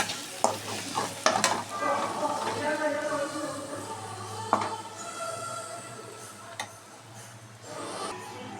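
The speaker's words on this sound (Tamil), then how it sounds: "மசாலாலாம் போட்டு நல்லா வதக்கிட்டேன்" Spices for pepper rasam sizzle and crackle in a hot pan while a spoon stirs and scrapes against the metal, with occasional sharp clinks.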